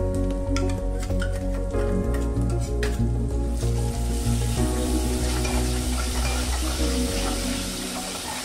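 Onion and spice paste fries in a pan for chole while being stirred. Loud, steady sizzling runs under repeated scraping strokes, with a low background hum throughout and no one speaking.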